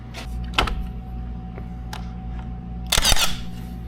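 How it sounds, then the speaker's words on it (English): A pin nailer fires into wood studs in a shop during wall framing, giving a few sharp, close snaps spaced apart, with a denser cluster of clicks near the end. "take your pin nailer, put a piece there"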